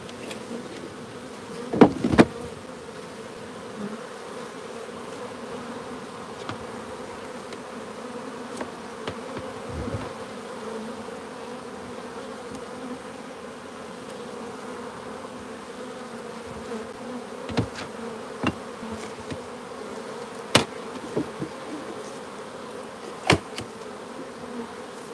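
Honey bees buzz steadily at an open beehive during an inspection, a continuous close drone with occasional sharp knocks and clunks of hive parts being handled.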